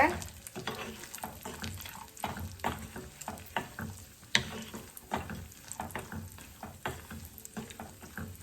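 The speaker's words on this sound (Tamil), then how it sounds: "எல்லாத்தையும் சேர்த்து உண்டாவே நான் வறுத்தெடுத்து கொள்கிறேன் நெய்யில்" Raisins frying in ghee while being stirred for rava laddu, a steady crackling sizzle broken by repeated scraping strokes of a spoon against the pan, close and moderately loud.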